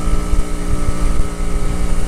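Shadow 125 motorcycle engine held at a high 10,000 rpm, giving a steady, loud, buzzing drone with a constant pitch and no talk over it.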